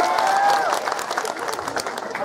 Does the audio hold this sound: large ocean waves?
no